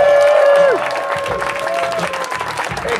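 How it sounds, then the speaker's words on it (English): Loud applause and cheering from a crowd at a birthday surprise party, steady clapping throughout with a few raised voices over it. "Let's give a round of applause for the birthday boy."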